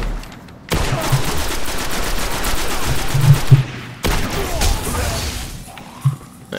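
Sniper rifle fire in the Destiny video game: loud sharp shots over dense, continuous gunfire and combat noise, with a couple of especially strong blasts, and brief speech mixed in.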